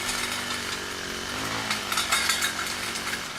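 Steady buzzing engine drone of a Mantis Classic 4-stroke tiller churning garden soil, continuous and fairly loud with slight surges near the end, no talking.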